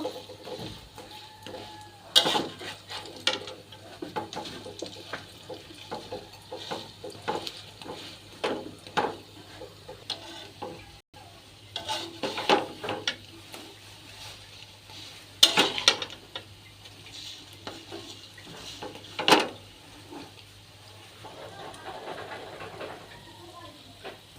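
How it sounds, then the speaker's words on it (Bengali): Lentil fritters with shrimp fry in a pan while being flipped one by one, giving scattered clinks and scrapes of a utensil against metal over a quiet sizzle. "এবার আমি সবগুলো উল্টিয়ে নিব"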